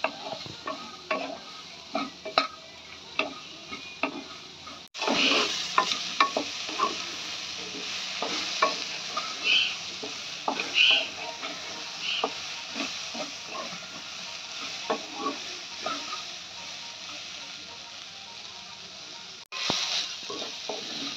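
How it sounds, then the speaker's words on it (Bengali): Long beans fry plain in a covered pan with no spices, giving a steady soft sizzle broken by repeated clicks and scrapes of stirring, with a louder burst of hiss around the middle. "এই যে আমার বরবটি ভাজা হয়ে গেল"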